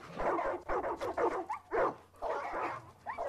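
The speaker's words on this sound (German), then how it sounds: "Ich frage mich nur, ob die Hunde zu laut sind." Dogs in the video game Far Cry 5 bark repeatedly in quick, irregular bursts, loud and close, some yelps rising in pitch, filling the whole stretch.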